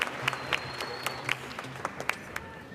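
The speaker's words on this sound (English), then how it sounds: "Let's give another round of applause to the men's choir, UT Permian Basin, talented students." Applause at a fall university graduation ceremony for the UT Permian Basin men's choir, steady patter of clapping across the hall with a few sharper close claps rising above a soft, moderately quiet wash.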